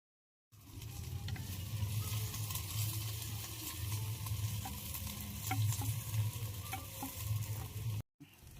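Onions fry in a pan with a continuous soft sizzle, punctuated by repeated scrapes and taps of a stirring spoon, close up but fairly quiet, with no talking; the sound starts after a brief silence and cuts out near the end.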